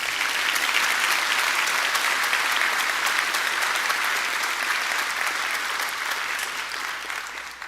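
A crowd applauds fire recruit graduates at their graduation ceremony, with steady dense clapping that stays loud and then tapers slightly at the end.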